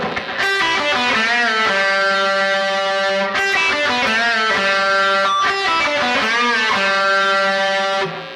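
Overdriven electric guitar plays the fill of a rock riff, loud and close, with bent notes and chord hits repeating in phrases over about eight seconds, no talking.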